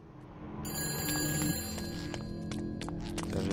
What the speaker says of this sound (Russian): Даже здесь сраный телефон.